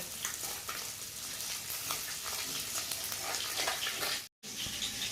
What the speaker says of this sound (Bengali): মাছটাকে আমি কিন্তু ভেজে নিচ্ছি